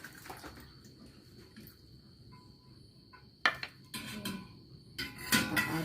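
Orange pieces are dropped into a cooled pot while making homemade cola, giving a few sharp clattering knocks and splashy clinks near the end, preceded by quieter faint handling and a steady high insect-like hum in the room.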